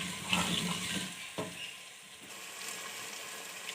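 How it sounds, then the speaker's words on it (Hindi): Spice masala of chilli, turmeric, cumin, garam masala and chopped tomatoes fries in a pan for aloo gobhi, giving a soft, close sizzle broken by a few brief stirring clacks, with no talking. "मसाले को अच्छे से भूनेंगे।"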